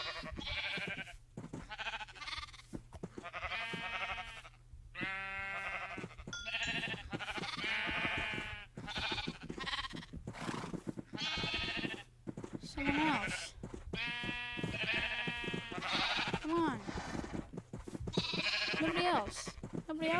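Sheep in a Minecraft-style survival game bleat again and again through the whole stretch, close and fairly loud, with many overlapping calls at an uneven rhythm.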